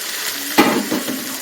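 Vegetables for Pongal kootu kuzhambu sautéing in a pan: a close, steady sizzle with a sharp scrape of a spoon stirring partway through.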